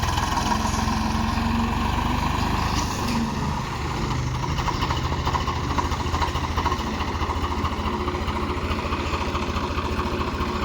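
A tractor engine runs at a tractor pulling event: a loud, close, unbroken diesel drone holding steady for the whole stretch, with no voices.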